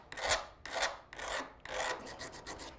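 A file rasps the rough edge off a copper piece in four steady back-and-forth strokes, close and alone, with a dry scraping texture.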